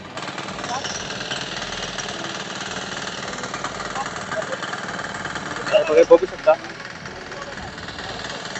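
A rotary tiller engine drones and rattles close by, running continuously with a few louder knocks near the end while a person speaks briefly over it.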